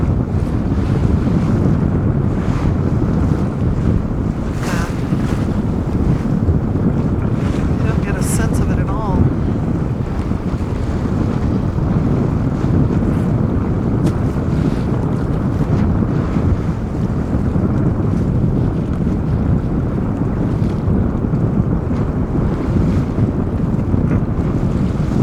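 Strong wind buffets a boat at sea off Baja California, a constant heavy rumble of gusts and wave wash across the whole stretch, with a few faint voices and brief higher sounds near the start.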